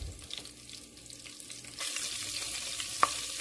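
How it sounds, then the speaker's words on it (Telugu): Garlic, ginger pieces and curry leaves sizzle in hot oil in a pan for a kichidi dish, a steady close frying hiss that swells louder partway through, with a single sharp pop near the end and no talking. "అండ్ వెంటనే వెల్లుల్లి, అల్లం ముక్కలు, ఇంకా మన కరివేపాకు."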